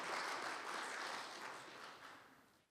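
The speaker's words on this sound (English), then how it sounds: "give them another round of applause" An audience at a customs agency anti-corruption panel discussion gives a round of applause, a faint wash of many hands clapping that fades out toward the end.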